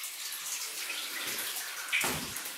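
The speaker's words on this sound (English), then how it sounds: "There's a little pocket out here with some water running down." Water trickles and runs down inside a collapsed underground haulage tunnel of a huge Soviet mine, a steady close splashing wash with a brief louder gush near the end and no talking.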